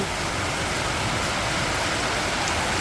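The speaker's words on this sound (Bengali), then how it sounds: "এত বৃষ্টি হচ্ছে যে নদীর স্রোতের মতো জল বইছে" Heavy rain falls around a house as rushing water flows past like a stream, making a loud, unbroken wash of noise throughout.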